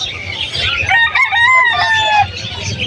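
A rooster crows loudly and close among chickens offered for sale, a long drawn-out call over a background of other fowl and faint murmuring.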